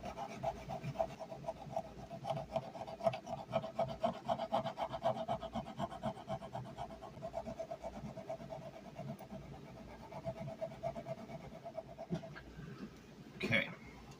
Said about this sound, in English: I'm going to have to trim off the excess here, file this all up smooth